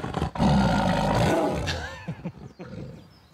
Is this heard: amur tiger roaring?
yes